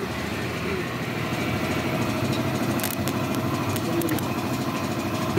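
A motorcycle engine idles at a steady, rough, even rumble throughout, with faint voices and a few brief clicks in the background.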